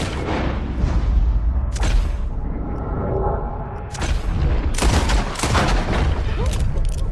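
Repeated gunfire from Red Dead Redemption 2, several loud sharp booming shots spread across the stretch over a steady rumbling game soundscape, no one talking.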